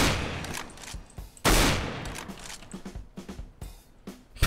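Rapid bursts of gunfire from the CS:GO video game crack repeatedly in close, uneven volleys, some shots louder and nearer than others, without speech over them.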